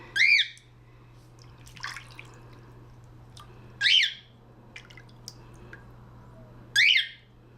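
A pet bird splashing in a bird bath lets out three loud, sharp squawks spaced a few seconds apart, with softer chirps and faint water noise between them.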